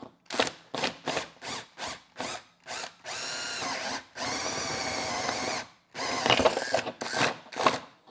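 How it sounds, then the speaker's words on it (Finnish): A power drill fitted with a large bit bores through a motorhome roof, first in a rapid series of short whirring bursts, then in one long steady grinding run, then a few more bursts, loud and close with no talking. "Ja nyt sitten isolla terällä vaan läpi."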